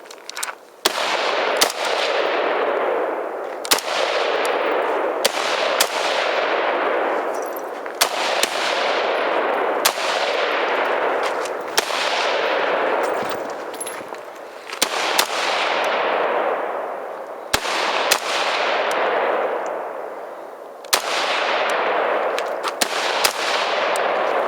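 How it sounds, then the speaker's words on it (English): A Tavor rifle fires a string of loud single gunshots at a shooting range, each sharp crack followed by a long ringing decay, spaced one to three seconds apart. "Got Mr. Zulu War shooting the Tavor."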